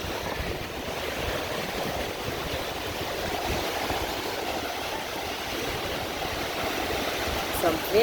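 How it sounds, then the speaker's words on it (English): Surf washes onto a crowded beach in a continuous broadband roar of breaking waves, steady and fairly close, with some wind mixed in and a faint brief sound near the end. "It's a very full beach today."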